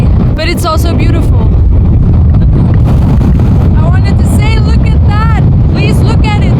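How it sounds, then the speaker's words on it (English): Strong wind at about 50 km/h buffets the microphone on an open mountain ridge in Norway's Lofoten Islands, a loud continuous low roar under a person talking. "It's kind of windy today, but it's also beautiful."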